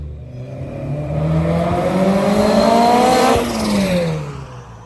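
An Integra Type S engine revs up through an exhaust with an inline resonator and two mufflers, a deep, throaty drone that climbs in pitch, holds, then drops back, close and loud.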